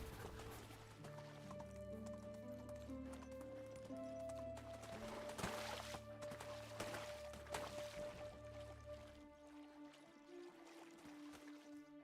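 Horse hooves clip-clopping at a steady trot in the medieval life-sim game Medieval Dynasty, faint and rhythmic beneath a layered orchestral music score.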